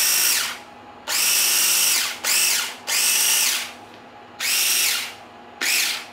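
A small Goot electric desoldering tool from Japan runs its motor in a few close, loud, steady whirring bursts with short gaps between them, and no voices are heard.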